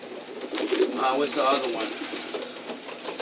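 Young racing pigeons in a loft coo softly with occasional wing flutters, heard close under someone talking and a steady background hum.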